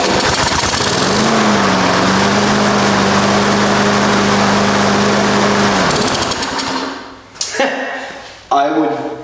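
A push lawn mower that sat unused for four years roars to life with a dirty carburetor: its small engine runs loud and close, rising in pitch, then sputters and dies with a few clunks and knocks.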